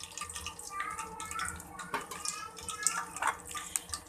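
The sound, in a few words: cumin seeds sizzling in hot cooking oil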